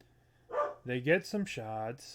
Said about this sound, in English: Doggy's going crazy.